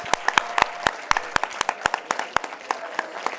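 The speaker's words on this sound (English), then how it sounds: "Give them a round of applause." An audience at an ICT summit claps in a short burst of applause. The claps are distinct and fairly sparse, like a small crowd, at moderate volume, with no speech.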